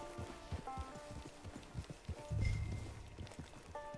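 A horse's hooves clip-clop in Red Dead Redemption Online, steady close hoofbeats with a brief heavier scuffing burst midway, set against faint game ambience.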